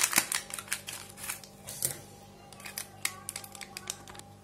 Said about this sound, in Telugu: ముందుగా ఈ ప్యాక్ను కట్ చేసుకుందాము.